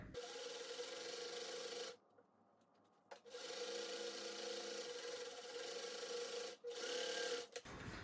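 A sewing machine quilting diagonal lines through layered fabric, a steady buzzing whir that pauses briefly a couple of times before resuming, no voices.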